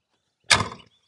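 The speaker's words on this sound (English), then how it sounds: "now let's shut this door." A Subaru kei van's sliding door rolls and thuds shut in one quick, loud motion, close by, followed by silence.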